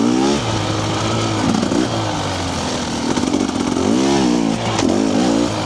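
A TBI fuel-injected motorcycle engine running at low speed on slow winter trail riding, loud and continuous, with uneven, wavering pitch and rough stutters and surges rather than a steady drone.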